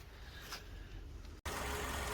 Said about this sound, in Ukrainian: Ось так рівно працює двигун, без жодних посторонніх звуків